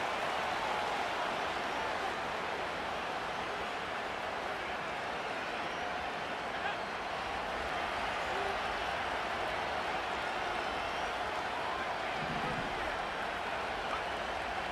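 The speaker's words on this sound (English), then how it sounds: "This crowd making its presence felt early." Stadium crowd noise from a Madden NFL football game, a dense steady roar across the whole stretch, with no clear announcer voice.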